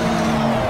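A McLaren race car in Project CARS spins out, engine droning with a sustained tire squeal and skid across a short, loud burst.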